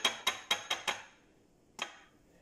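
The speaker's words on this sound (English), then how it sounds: "Alright, crack one whole egg." Eggs cracked against a hard edge while cooking, five quick sharp taps in a row followed by one more after a short pause, close and fairly quiet with no talking.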